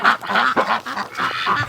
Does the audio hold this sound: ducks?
yes